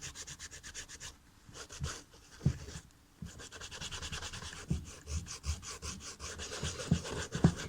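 A suede eraser scrubs dirt off suede roller skate boots in quick, repeated rubbing strokes, close and fairly quiet, with short pauses between bursts.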